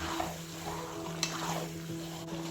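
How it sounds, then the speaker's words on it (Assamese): Jalphai olive pickle with sugar fries in oil in a pan, a steady sizzle under repeated scraping and stirring strokes, with a couple of sharp utensil clinks against the pan. "ভালকৈ ভাজি ল'ব, চেনিখিনিও ভালকৈ গোল খাই দিব।"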